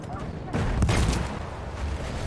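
Gunfire in the first-person shooter Battlefield 1, a dense burst of shots and explosions in the middle of a noisy battle mix, with someone talking excitedly over it.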